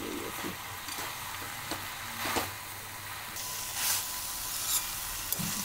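Chickpeas frying with masala in a pan for chhole ki sabzi, a soft, even sizzle at low level with occasional light stirring clicks and no talking.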